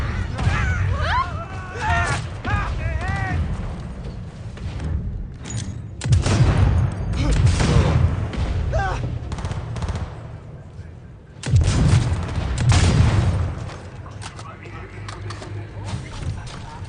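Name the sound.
gunfire in the video game Cyberpunk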